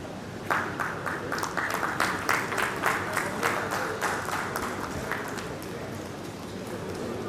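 A Rotary district governor installation ceremony audience applauds, rapid dense clapping building loudly then fading into a softer, scattered patter toward the end.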